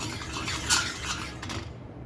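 A utensil scrapes shrimp and onion bits off the bottom of a pan while making shrimp scampi, giving a soft metallic rasping over a low simmer, with one sharper scrape standing out briefly.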